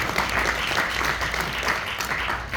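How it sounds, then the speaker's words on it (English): Audience applause at a community lunch-and-learn gathering, a dense steady patter of many hands clapping at moderate volume throughout. "is really worthy of another round of applause"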